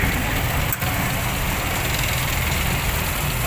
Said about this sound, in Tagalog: Ayan o, sobrang tahimik.